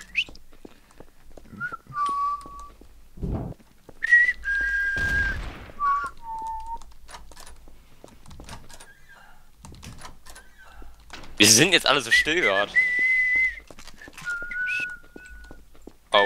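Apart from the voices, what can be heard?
someone whistling over voice chat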